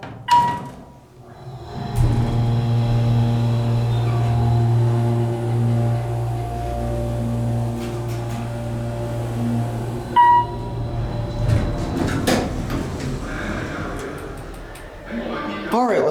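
An Otis Series 1 hydraulic elevator in a church in Missouri City, Texas, starts with a low, steady motor hum that holds for several seconds, then car and door noises and rattles follow as the ride ends, all fairly loud and close.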